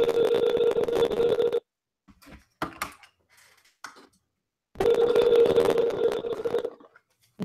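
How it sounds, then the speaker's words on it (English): Telephone ringback tone on a call to the IRS: two long, loud, steady buzzing rings separated by a silent gap, with faint handling clicks and knocks between them. "Maybe this one's ringing."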